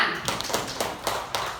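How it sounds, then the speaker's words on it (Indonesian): Classroom applause from students, a short burst of scattered taps and claps with several sharper accents, fairly close and without talk. "Ya betul, tepuk tangan."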